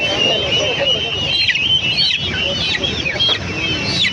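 Hens cluck and chatter continuously among a busy roadside flock of breeds including Giriraja, Sonali and Kadaknath, with bright bird calls and faint voices mixed into the steady noise.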